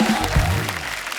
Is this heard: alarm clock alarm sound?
no